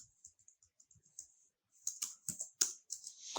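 Sparse computer keyboard keystrokes click close and crisp, first scattered and faint, then a quicker burst of louder taps after a short pause.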